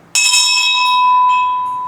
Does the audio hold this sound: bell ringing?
yes